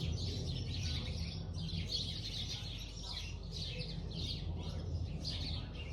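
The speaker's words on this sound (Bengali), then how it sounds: "চড়ুই পাখিতে কিচিমিচি ডাকছে" Sparrows chirp and twitter continuously in a bush on a morning walk in France, a dense, busy flock chorus at moderate distance over a low background hum.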